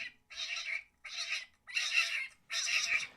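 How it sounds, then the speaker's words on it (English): Harsh, strained kitten screams come in four long bursts separated by brief gaps, sounding close and intense, as two kittens squall at each other. "I was recording these kittens and they got to screaming at each other."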